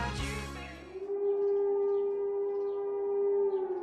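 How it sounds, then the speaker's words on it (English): A civil defense siren winds up and holds a loud, steady wailing tone, sounding continuous and close, with no voices. "the sirens will emit a rising and falling note"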